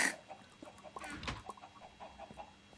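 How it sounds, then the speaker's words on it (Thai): A chicken in the video game Minecraft gives a few short, faint clucks amid quiet game noise, with no talking heard. "ได้เสียงออกไข่"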